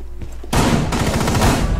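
Shotgun fire in Rainbow Six Siege, a sudden loud blast at close range followed by a dense burst of rapid gunfire and crackling impacts that continues to the end, with no talking.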